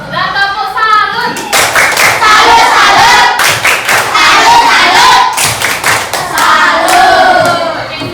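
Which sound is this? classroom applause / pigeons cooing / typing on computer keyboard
classroom applause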